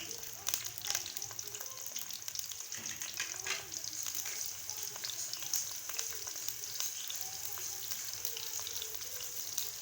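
Onions frying in a pan for kachnar qeema, a dense crackling sizzle heard up close, with scattered pops and a faint voice beneath.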